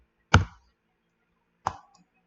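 Two distinct mouse clicks in a software tutorial, about a second and a half apart, sharp and close in an otherwise silent room.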